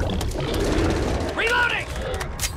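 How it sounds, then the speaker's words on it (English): A weapon being reloaded in the video game Back 4 Blood on PS5: quick mechanical clicks and metallic ratcheting, close and fairly loud, over a steady background of game noise. "Reloading!"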